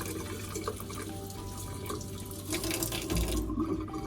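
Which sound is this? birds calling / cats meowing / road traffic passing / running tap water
running tap water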